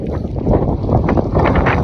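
Strong wind buffets the microphone in continuous low roaring gusts in Spain, loud and close, with no clear voices.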